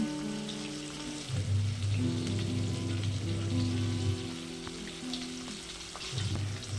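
A piece of katla fish frying in hot oil, a steady close crackling sizzle with a low hum running beneath it, no talking.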